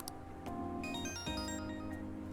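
A phone rings in the video game Persona 5 Royal with a melodic, tonal ringtone playing a short sequence of chiming notes over quiet game background sound.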